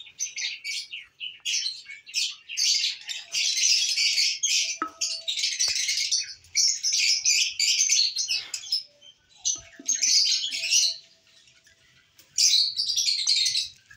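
A pair of lovebirds chirps in rapid, shrill bursts, trilling clusters repeating on and off with short quiet gaps at close, moderate volume, with no talking.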